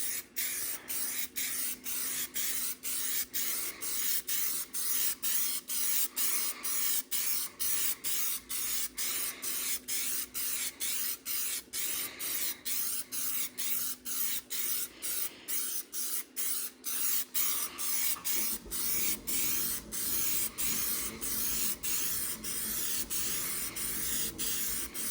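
Spray paint hissing onto the hood of a John Deere 4100 tractor in John Deere green, laid down in a long run of short, rapid, evenly spaced bursts at close range with no voices.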